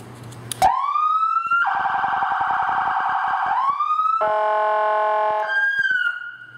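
A loud police motorcycle siren on a Victory Commander 1, close by, winding up then switching between wailing, rapid yelping and warbling tones, nonstop throughout.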